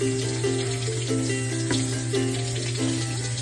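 Tap water pours steadily over stuffed bell peppers in a kitchen sink, a close, continuous rushing splash with a low hum beneath and no voices.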